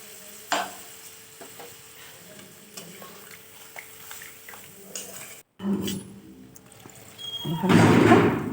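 Milk poured into Bengali sukto vegetables cooking in a pan, with a stirring scrape early on and a louder sizzling, bubbling burst near the end as the liquid hits the hot pan; faint background noise between.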